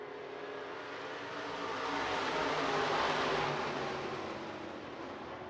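SportMod race cars roar around the oval at Hancock County Speedway, a loud, broad engine drone that swells to a peak as the pack passes and then eases off, with no voices.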